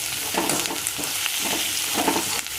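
Onion sautéing in a pan with cumin, green chilies and red chili added, giving a loud continuous sizzle with bursts of stirring and scraping, close and steady for a few seconds.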